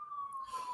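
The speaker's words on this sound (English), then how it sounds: "there's sirens going off constantly outside the window." Siren from an emergency vehicle outside a window: a steady, faint, slightly falling wail, heard from a distance through a room.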